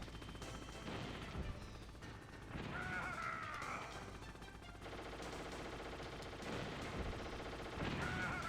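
Gunshots during a boss fight in the video game Metal Gear Solid, fairly quiet scattered bursts and impacts mixed into a busy, layered game soundtrack with clanking and a rising tone, no clear talk.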